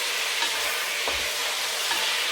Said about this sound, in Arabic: هحمر الفرخه شويه كده تحميره